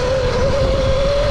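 A Surron electric dirt bike on the move gives a loud, steady whine with a constant tone and rushing wind noise, close up and with no talking.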